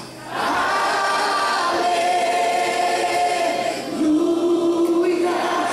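A church congregation sings together in Portuguese worship, a sustained, loud chorus of many voices holding long notes with a brief dip before swelling again.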